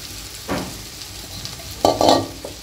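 Cut okra and chilli being sautéed in a pan: a low sizzle throughout, with a couple of louder stirring scrapes and bursts of frying noise near the end, no talk.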